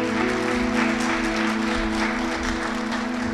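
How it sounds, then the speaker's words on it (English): An audience claps for a speaker at a civic talk, a sustained mid-level patter of many hands heard from a moderate distance, with steady tonal hum underneath and no speech. "Please give Frank a round of applause."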